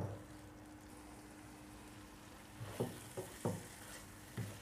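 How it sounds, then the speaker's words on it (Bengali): Tomatoes fry with salt and spices for a brinjal curry, a low constant sizzle punctuated by several close stirring scrapes and knocks against the pan in the second half. "টমেটোগুলো মশলার সাথে খুব ভালোভাবে আমি একটু কষিয়ে নিব, যেন টমেটোগুলা নরম হয়ে আসে।"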